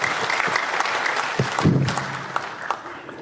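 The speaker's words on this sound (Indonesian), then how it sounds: "Kita beri tepuk tangan untuk Pak Ketua" A crowd at a chamber of commerce gathering in Jakarta applauds the chairman, loud, dense clapping throughout with a few louder claps and faint voices underneath.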